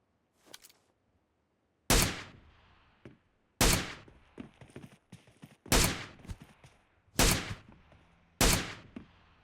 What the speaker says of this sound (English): That's what the gun sounds like without the silencer.